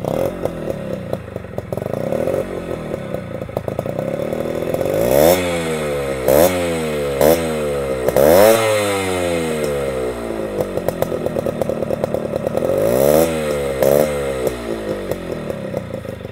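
A TVS Suzuki Shogun two-stroke motorcycle engine runs close by, revving repeatedly in sharp rising and falling bursts over a raspy idle, loud and buzzy with no talking.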